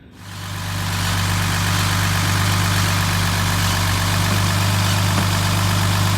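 A 1966 Mercedes 230SL engine with a split PCV hose fires up and holds a steady, close idle, with a strong low hum and an even mechanical drone throughout and no voices over it.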